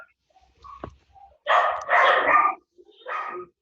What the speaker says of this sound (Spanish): están totalmente locos los perros, no escucho.